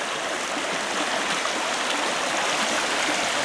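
Water rushes steadily through a drop riffle sluice box from the California Sluice Box Company during gold prospecting, a continuous close broadband wash with no talking.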